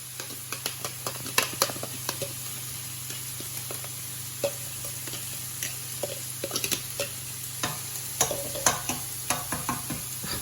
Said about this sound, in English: I'm going to put in the onion and garlic mixture and just let that fry up in the butter for a short time.